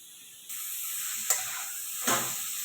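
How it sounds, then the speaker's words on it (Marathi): Grated carrots frying in ghee, the hiss jumping up as they go in, then two brief scraping stirs of the spoon. A bright sizzle, close and without speech. "तर आता हे छान फ्राय करून घेते मी म्हणजे जे गाजर आहे ना ते छान परतून घेणार आहे"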